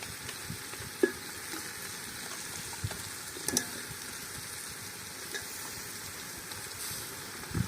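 Five quail frying in a pan for a village-style quail biryani, with a continuous bubbling sizzle and a few sharp clinks of a utensil against the pan, and nobody talking.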